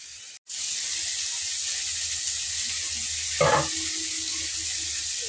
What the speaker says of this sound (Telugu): ఇవి కూడా అంత లోపల ఒక 5 నిమిషాలు అయితే సిమ్లో పెట్టి వేయించుకోవాలి